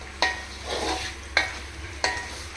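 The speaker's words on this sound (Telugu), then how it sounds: "ఇప్పుడు ఒక్కసారి మొత్తం కలుపుకుందాము" A spoon stirs chopped green chillies into kadai chicken biryani in a pan, with three sharp metallic scrapes over a soft, steady sizzle.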